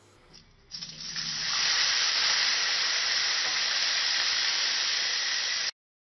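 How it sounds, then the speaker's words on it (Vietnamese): A sudden loud hiss and sizzle rises as mushrooms hit a hot oiled pan with fried garlic over high heat, holding steady for several seconds before cutting off abruptly, close and without talk. "Chúng ta xào nấm thật là nhanh với lửa lớn, cho nấm chín hẳn rồi trút ra dĩa."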